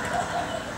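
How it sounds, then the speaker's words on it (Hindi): A padki dove calling, a soft low coo repeated about three times in quick succession, steady and moderately close with no talk. "पड़की नाम की एक चिड़िया बोल रही है,"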